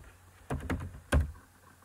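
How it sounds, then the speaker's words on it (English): Three soft key clicks on a computer keyboard while a command is typed on a Windows 10 PC. The clicks are quiet and close, two in quick succession, then a slightly louder one. "Just go and type that command."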